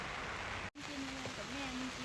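Rain falling during a fishing trip at Huai Tueng Thao in Chiang Mai makes a steady, even hiss throughout, broken by one brief dropout. A faint tonal line runs beneath it.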